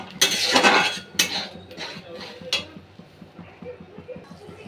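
Masala being stirred and fried in a pan, a metal spoon clinking and scraping against the pan in a few loud strokes, then quieter steady scraping over a soft background.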